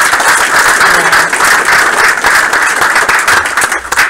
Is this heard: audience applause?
yes